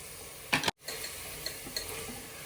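Tomato and spice powders, including coriander powder, frying in a pan, heard as a soft continuous sizzle broken by a sharp scrape of stirring and a brief cut, then a few light clicks of the spoon.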